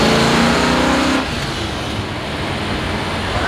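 A 1970 Plymouth Duster V8 revs loudly up close, then drops to a lower, rougher idle rumble as the throttle is released.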